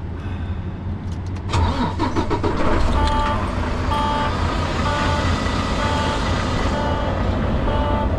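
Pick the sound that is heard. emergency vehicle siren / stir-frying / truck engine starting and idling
truck engine starting and idling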